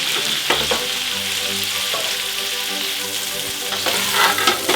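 Onions sizzle loudly in a hot pot, a continuous close frying hiss broken by a few scraping stirs and soft knocks of a utensil against the metal.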